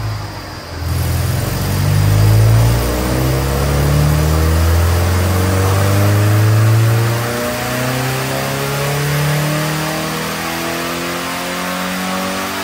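A car engine revs up and holds high, then eases, on a test run after the spark plug wires were replaced because of an ignition breakup at low RPM; steady and close with no talk.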